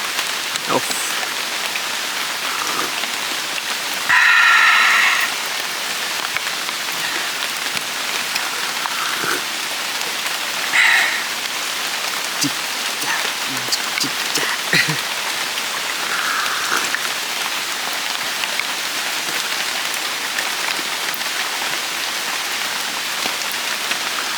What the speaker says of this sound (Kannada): ಸಿಕ್ಕಾಪಟ್ಟೆ ಮಳೆ ಬ್ರೋ, ಇವತ್ತಂತೂ